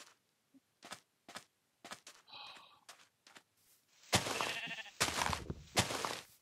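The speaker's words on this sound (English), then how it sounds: "Sheep." Sheep bleating in a Minecraft-style game, several short clicky bursts followed by three loud, close, drawn-out bleats in quick succession.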